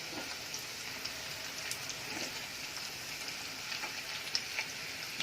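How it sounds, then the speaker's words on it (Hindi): Eggplant for baingan chilli frying in a pan, a steady broad sizzle and crackle running throughout at moderate level, with small pops scattered over it and no voices. "फिर बैंगन डालेंगे, वो फ्राई करेंगे।"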